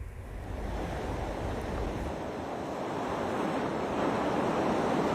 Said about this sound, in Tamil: இங்கே கடல் பார்த்தீங்கன்னா மிகவும் கொந்தளிப்பாகவும் ஆக்ரோஷமாகவும் காணப்படுகிறது.